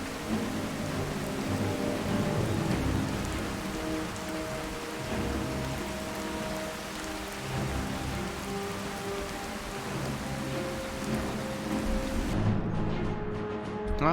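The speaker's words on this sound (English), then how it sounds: "Thunderstorm begins to let up." Steady heavy rain hisses across the whole span in a Skyrim thunderstorm, with low rumbling thunder mixed beneath, continuous and fairly loud with no talk.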